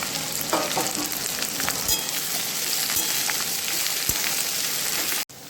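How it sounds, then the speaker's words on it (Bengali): Pieces of ivy gourd fry in hot oil in a pan, giving a continuous close sizzle broken by occasional stirring scrapes and clicks, then an abrupt cut near the end, with no speech. "তারপর 8-10 মিনিট ধরে নেড়ে চেড়ে খুব ভালো মতো করে ভেজে নেবো।"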